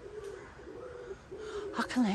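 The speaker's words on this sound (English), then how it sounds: "Oh, it's a bird." A wild bird calling outdoors at night, a soft steady cooing tone that fades in and out, then a brighter rising call near the end, faint and alone over a quiet background.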